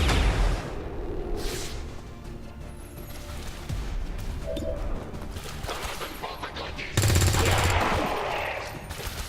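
Heavy gunfire in a shooter video game, a dense sustained burst rolling on loud and steady with a sharper, louder surge near the end.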